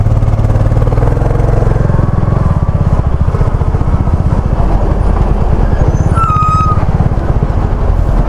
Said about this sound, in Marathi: अर्ली मॉर्निंगला सुद्धा ट्रॅफिक.